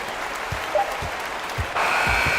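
An arena crowd in an NBA basketball video game applauds in a steady wash of clapping, with faint low thumps underneath and the clapping growing louder toward the end.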